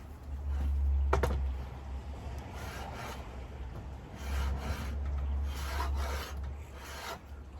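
Sharpened hand tool scraping and flattening purpleheart wood for a guitar inlay, a close, steady rasping and rubbing with a few sharper strokes, alone throughout.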